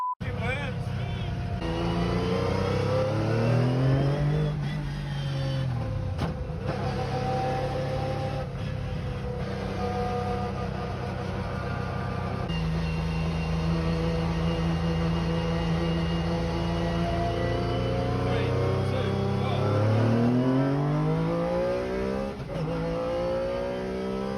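An MG Metro 6R4 rally car driven on the road, its engine revving up and down through repeated gear changes. The rising and falling roar stays steady and close for over twenty seconds, with a voice speaking now and then.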